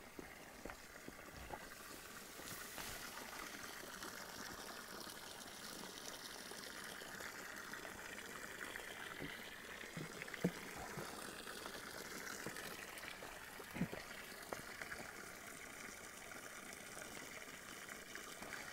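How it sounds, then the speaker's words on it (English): Fresh spring water running continuously from a standpipe hidden in reeds, a steady, soft gushing and trickling flow heard alone, quiet and even throughout. "So this is the standpipe of fresh spring water, straight out the ground, runs 24/7, all day, every day."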